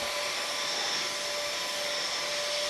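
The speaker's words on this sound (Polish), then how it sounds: "To ja może nie wyłączam jeszcze tego odkurzacza." A vacuum cleaner runs steadily and loudly, with a constant whine and airy roar, while sucking up spilled rice in a home kitchen. No one speaks over it.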